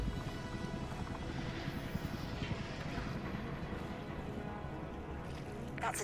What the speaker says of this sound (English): That's a Drakon class attack helicopter. A tank killer.